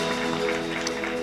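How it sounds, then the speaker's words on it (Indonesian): Congregation applause during a Sunday church worship service, a continuous dense clapping wash with steady sustained musical tones underneath. "Tepuk tangan paling meriah."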